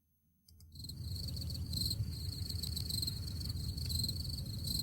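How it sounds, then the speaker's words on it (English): After a brief silence, crickets start chirping in a dense, steady high trill, a continuous faint chorus with a soft low hum beneath. "Where's the cricket noise? We need that right now, don't we? Okay. What? Crickets are outside."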